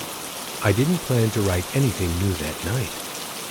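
Steady rain falls as a soft, even hiss throughout, lying beneath a calm voice narrating a bedtime story.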